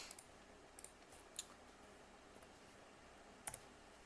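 Typing on a computer keyboard: sparse, faint key clicks in small irregular bursts over a quiet hiss, with no speech.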